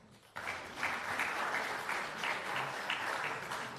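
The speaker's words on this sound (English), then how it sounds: "Please join me to give them another well-deserved round of applause." A conference audience applauds steadily, a dense wash of many hands clapping that starts abruptly and holds at full strength throughout.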